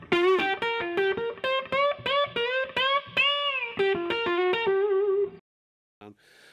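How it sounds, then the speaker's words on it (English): An electric guitar plays a quick run of picked notes through an amp with a gritty, distorted edge, then falls silent before a brief final strum. "When you hit it hard, you hear that distortion."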